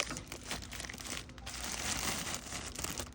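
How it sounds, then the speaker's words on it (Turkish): Plastic bag crinkling and rustling as it is opened to unwrap a new part in a home repair of a BMC Levend, close and fairly quiet, continuous for a few seconds. "Bunu poşetinden açıp"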